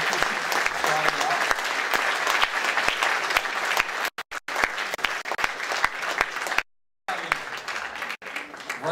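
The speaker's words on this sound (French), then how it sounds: "Est-ce qu'on peut l'applaudir" A gala audience applauds steadily with dense, sustained clapping that holds over several seconds, broken by brief dropouts, filling the hall at moderate loudness.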